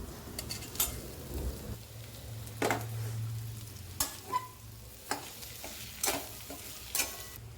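Onion fries in a pan for a potato vegetable dish. A soft continuous sizzle is broken by sharp, irregular clicks of a spoon against the pan, with a faint low hum in the background and no voices.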